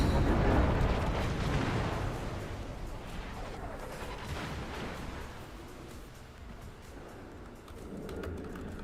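Warship turret guns firing in World of Warships, a heavy rumbling boom strongest at the start that decays into a long, fading low roar with smaller echoing blasts trailing behind.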